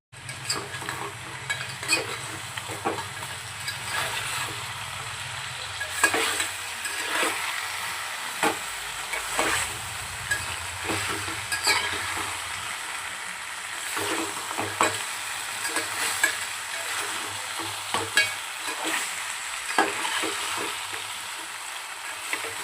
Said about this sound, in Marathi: की आपण चिकनचं आता परतून घेऊया